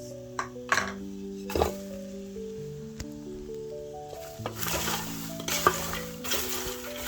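Popcorn and sugar being stirred in a pot over low heat, with scraping and rustling strokes mixed with occasional clinks, heard under and between sustained musical tones.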